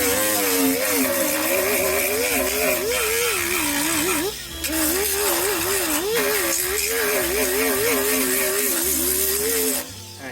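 A slow-spinning 36 grit sanding disc scuffing the steel of a 1967 MGB body panel, a steady wavering motor whir with a brief dip near the middle, loud and close.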